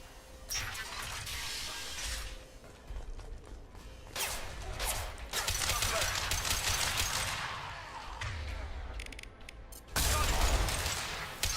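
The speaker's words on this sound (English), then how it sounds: "Firing concussive shot." Gunfire and ability blasts crackle during Mass Effect Legendary Edition combat. Loud bursts of shots and sharp impacts come in clusters with brief lulls, backed by a dense mechanical din and no clear speech.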